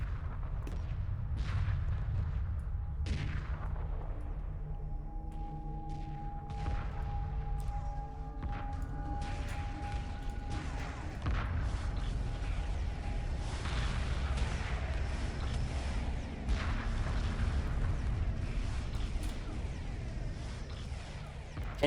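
Heavy sustained weapon fire from ion cannon frigates in a Homeworld Remastered 2v2 space battle, a dense continuous roar of blasts and booms with sharp bursts throughout and steady low rumble.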